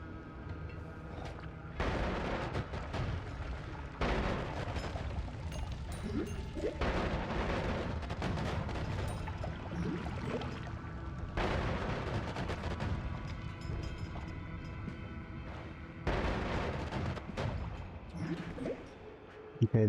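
Repeated explosions in a video game, several heavy booming blasts in bursts separated by quieter stretches, loud and close, with a faint voice now and then.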